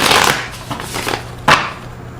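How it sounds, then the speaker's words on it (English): A short burst of tarot cards riffling and slapping together, a few quick papery swishes up close, with no speech. "let me shuffle these cards"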